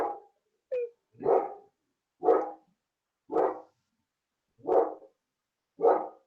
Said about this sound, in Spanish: ¿Me estás ladrando?